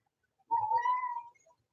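A single drawn-out cat meow, fairly close and clear, rising then falling slightly and lasting under a second, with near silence before and after.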